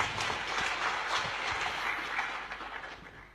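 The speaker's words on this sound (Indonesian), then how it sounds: "Kita beri tepuk tangan saudara." A church congregation applauds during a sermon, a dense, even patter of many hands clapping that fades slightly toward the end, without speech.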